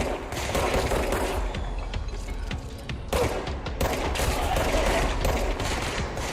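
Sustained automatic gunfire from the video game Control, loud and dense bursts rattling continuously with a brief dip near the middle, no talk over it.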